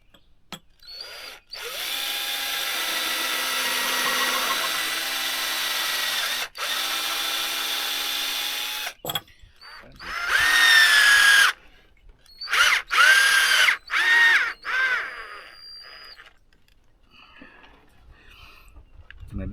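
A power drill drives screws into raw cedar boards for a queen bed, with several long steady whirring runs followed by short choppy bursts as each screw seats, loud and close with no talking.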